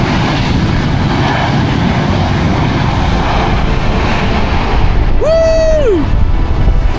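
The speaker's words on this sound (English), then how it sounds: "Yeah, our plane landed safely and we were on our way." Loud, continuous roar of an airplane landing and braking on the runway in the Azores, a broad rushing noise with a brief whining tone sweeping down near the end.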